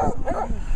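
A single short dog bark, close and fairly loud, cut off quickly.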